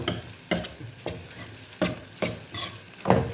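Green beans stirred and frying in a pan, with a spatula scraping in regular strokes about every half second over a steady crackling sizzle, close and clear with no talk.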